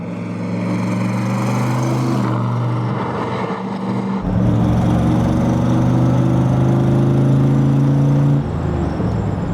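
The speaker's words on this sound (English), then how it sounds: "Even after all these years, this car is still faster than the cameraman." A 1967 Corvette C2 Stingray roars past at speed, its loud V8 engine note droning steadily, then jumping in pitch and volume as it surges by close up, with no talking.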